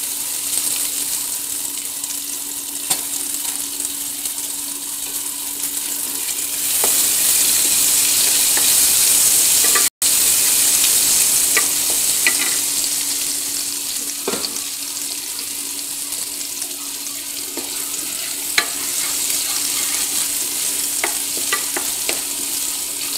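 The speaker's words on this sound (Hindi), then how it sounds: "प्याज को मुझे थोड़ा ब्राउन करना है" Onions frying and browning in oil for mutton biryani, a steady broadband sizzle with occasional stirring clicks and a louder surge partway through, close and continuous with no talk.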